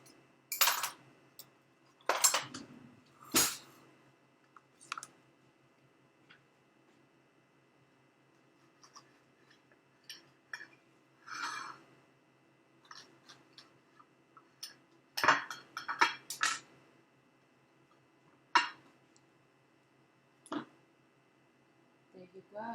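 Cutlery cuts through a rotlo flatbread, giving scattered sharp clinks and scrapes against a plate in short bursts separated by quiet pauses.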